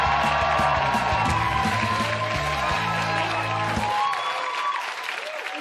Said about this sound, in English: let's give a big round of applause to my friend, Brent Sullivan